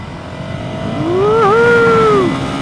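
A 2015 Ducati Scrambler motorcycle engine revs up and holds a rising, buzzing tone as the bike rides on gravel and dirt, loud and close with a brief dip mid-pull.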